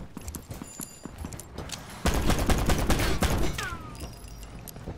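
Black Ops 4 game gunfire comes as a dense burst of rapid shots after a few lighter clattering footstep-like taps, loud and close, then tapering off.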